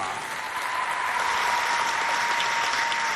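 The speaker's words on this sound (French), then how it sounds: "On va applaudir bien fort pour Bebnone, Tamibé, Mayeska, Mbaikam, Dara" A school audience at a quiz event claps in a dense, steady ovation, loud and sustained throughout with no break.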